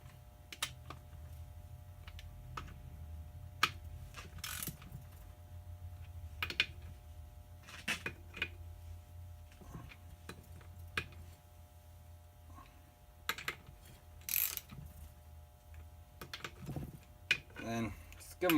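A ratchet snugs up bolts on a divorced NP 205 transfer case, giving scattered faint clicks and short metallic ticks close by in a quiet room.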